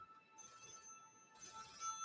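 A telephone rings in two bright electronic bursts separated by a short gap, heard fairly faintly and alone in a quiet room.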